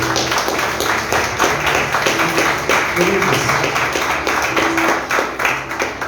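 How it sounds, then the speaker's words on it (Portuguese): Congregation in a church clapping together in a steady rhythmic beat, loud and dense, with a voice speaking over the applause. "Faz palmas para Jesus."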